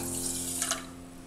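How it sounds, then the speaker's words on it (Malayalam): Water runs from a tap or is poured into a pan of sugar to make syrup, a short bright splashing stream over a faint steady hum that tapers off near the end. "ഇനി ഇതിലേക്ക് വെള്ളം ഒഴിച്ചു കൊടുക്കാം"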